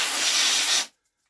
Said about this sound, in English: So we'll give her a little brush down with a dry brush.